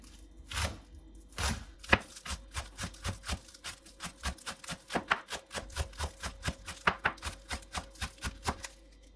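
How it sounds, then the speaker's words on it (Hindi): A knife finely chops green onion on a cutting board in a home kitchen, producing about two dozen crisp, evenly spaced taps in a steady, brisk rhythm, close and clear with no talking. "ये मैंने ग्रीन प्याज ले लिया, इसको भी बारीक काट लेंगे"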